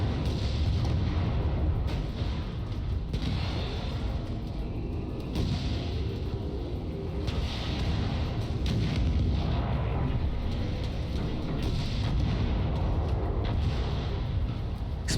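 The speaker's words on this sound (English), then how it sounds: "Explosions look great, guys" Artillery barrages in the strategy game Crossfire Legion, repeated deep booming blasts rolling over one another in a dense, continuous rumble of battle.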